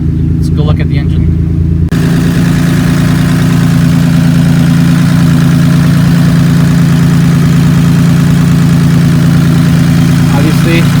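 A Maserati Biturbo engine idles steadily up close with a low, even drone and a bright hiss above it; a few brief clicks come early on, then the idle runs on alone.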